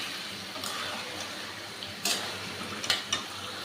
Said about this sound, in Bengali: এবার আমার সেই ম্যারিনেট করা কাঁকড়াগুলো আমি এর মধ্যে দিয়ে দিলাম। দিয়ে ভালো করে আমি একটু কষিয়ে নেব।